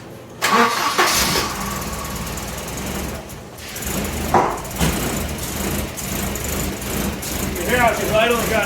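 A Volvo 945 turbo engine cranks, catches and settles into a rough, uneven idle, loud and close, while a person talks over it.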